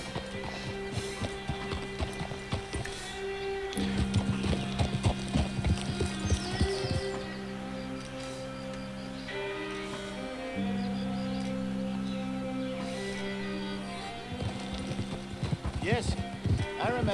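Horse hooves clip-clop steadily while riding in the video game Red Dead Redemption 2, with occasional whinnies, under continuous game music and talking voices.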